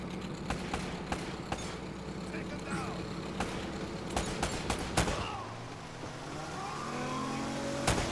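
Gunfire in Uncharted: Drake's Fortune: sharp bursts of shots crack out repeatedly over an engine rumble from a moving vehicle, with voices shouting between volleys.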